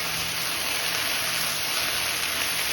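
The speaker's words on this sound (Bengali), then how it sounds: "তাজা কাঁচামরিচ সব একসাথে ভেজে নিলেই কিন্তু ভেজে" Okra and fresh green chilies fry together in oil in a pan, giving a steady, dense sizzle that hisses evenly throughout with no voices.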